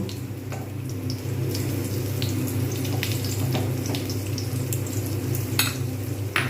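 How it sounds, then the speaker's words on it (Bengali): Dry red chillies, whole cumin and whole garam masala fry in hot oil, giving a steady, fairly loud sizzle. Scattered clinks and scraping from stirring sound over it, and no one speaks. "এর মধ্যে শুকনো লঙ্কা গোটা জিরে আর গোটা গরম মশলাটা আমি দিয়ে দেবো এবার সুন্দরভাবে আমি এটাকে আমি"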